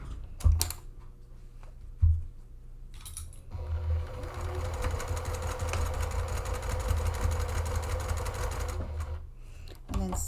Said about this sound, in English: I'm going to run a row of stitching down this right hand side